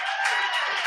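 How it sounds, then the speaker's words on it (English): Audience applauding and cheering drag queens during a stand-up comedy show, a brief, steady burst of crowd clapping with no gaps. "Give a round of applause for those drag queens."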